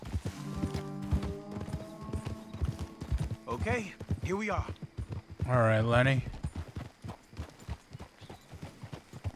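Horse hooves clip-clop in the video game Red Dead Redemption II, a steady rhythmic beat of game horses that runs under someone talking throughout.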